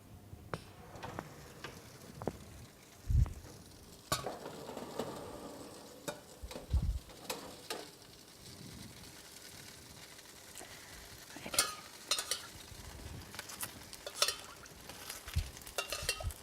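A Christmas turkey is basted with a cranberry, lime and maple glaze: quiet wet dabbing and brushing with soft sizzle, scattered clicks and a few louder knocks of a spoon against the tray.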